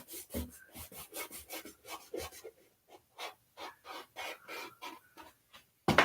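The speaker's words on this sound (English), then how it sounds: "when I'm scrubbing paint on the canvas" A brush scrubs paint across canvas in a quick series of short, dry rasping strokes, close and fairly loud, with brief pauses between bursts and a sharper scrape at the end.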